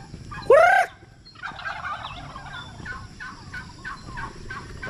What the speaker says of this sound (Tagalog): Yung mga pabo natin.